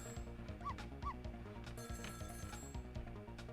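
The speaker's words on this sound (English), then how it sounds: "The phone's ringing again" A telephone rings in the video game Ghost Trick: Phantom Detective, its short warbling rings repeating over busy in-game music and effects.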